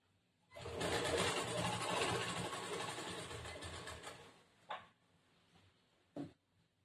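A sewing machine stitches a plain blouse in one sustained whirring run of about four seconds, then gives two short separate bursts, close and moderately loud in a quiet room.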